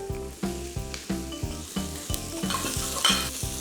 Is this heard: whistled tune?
no